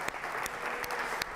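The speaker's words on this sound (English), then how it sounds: "please give us a round of applause for the speakers" Applause from an audience at a livestreamed television-history talk event in Bournemouth, a steady moderate clapping texture lasting about a second, with a few sharper claps standing out.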